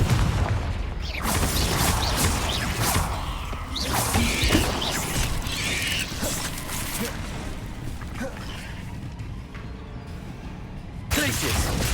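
Confringo blasting spells in the video game Hogwarts Legacy go off as repeated booms and crashes amid whooshes and combat noise, with someone talking over the action.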